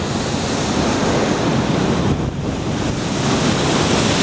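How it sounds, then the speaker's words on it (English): Huge ocean waves crash against rocks in a loud, roaring wash of surf with heavy wind buffeting the microphone, continuous and close with a brief dip midway and no talking. "look at those waves. They are absolutely huge."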